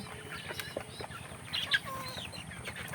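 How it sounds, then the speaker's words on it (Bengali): Farm chickens clucking and pecking at feed outside in the rain, soft scattered clucks and a brief louder call over a faint background patter of wet surroundings. "মুরগিগুলোকে খাবার দিয়েছি বৃষ্টিতে ভিজে টানা টানা হয়ে গেছে"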